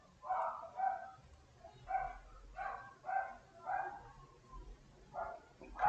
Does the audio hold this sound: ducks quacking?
no